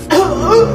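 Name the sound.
cough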